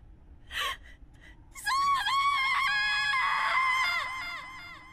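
Anime character lets out a long, loud, piercing scream with strong harmonic tone lasting about three seconds, preceded by a brief sharp gasp-like cry.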